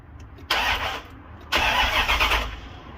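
A car engine being cranked with the key during a fuel pressure fault, two loud bursts of starter cranking about a second each, separated by a brief quiet pause, close by with no talking.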